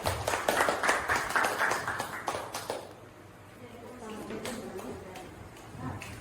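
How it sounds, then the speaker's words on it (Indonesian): A classroom audience claps for Bu Nurjana, a dense burst of hand claps for about three seconds that then fades into quieter room sounds and a few stray claps. "Tepuk tangan dulu buat Bu Nurjana."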